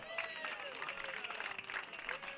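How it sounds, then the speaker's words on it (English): A ballpark crowd applauds during a first-pitch ceremony at a Petaluma Leghorns vs. Sonoma Stompers baseball game, soft distant clapping with whistles and cheering voices over it. "Everybody, big round of applause for Jeremiah."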